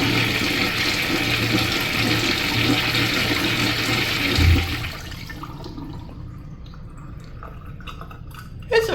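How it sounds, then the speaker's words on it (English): A 1960s Crane Bedfordshire urinal with rim jets flushing, a loud rushing gush of water that pours steadily, then drops to a quieter trickle and gurgle as the flow fades. "It's a pretty standard straight down flush."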